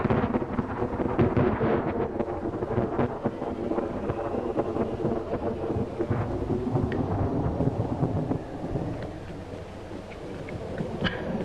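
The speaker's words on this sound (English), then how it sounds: "I suppose it's a storm." A heavy thunderstorm roars outside an old house, steady rain and wind with rolling thunder filling the scene continuously, loud and close, with no voices.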